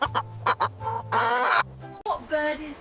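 A chicken clucks in loud, close, uneven bursts, with short clucks and a longer squawking call partway through.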